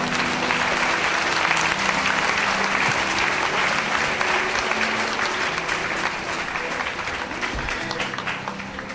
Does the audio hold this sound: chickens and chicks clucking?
no